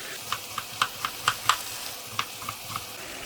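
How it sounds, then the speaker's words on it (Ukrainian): Onion fries in a pan beside potatoes, a steady sizzle broken by light clicks of a utensil stirring against the pan at an uneven pace, close and without talk. "ми швиденько підсмажимо цибулю, яка в нас залишилася"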